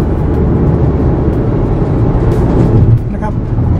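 A car accelerates hard to overtake on a two-lane country road, its engine a steady loud rumble with road and wind roar, heard from inside the cabin.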